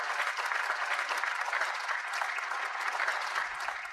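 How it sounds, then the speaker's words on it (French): Crowd applause at a competition after a world record round, a steady, moderately distant clatter of many hands clapping with no speech. "Applaudissements."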